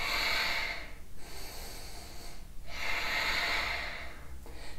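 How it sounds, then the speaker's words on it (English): Deep yoga breathing during a vinyasa flow, slow rhythmic airy inhales and exhales, close and fairly quiet, with about three long breaths and brief pauses between. "5 deep breaths."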